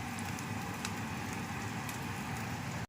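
Spice masala with salt masala sizzles in a hot pan, a steady crackling fry with faint pops throughout, close and even, cutting off abruptly at the end.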